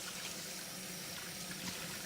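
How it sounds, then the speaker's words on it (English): Water runs steadily as something is rinsed out after floor cleaning in a woodworking shop, a continuous, even rush with no pauses and no voices. "I'll give this a rinse out."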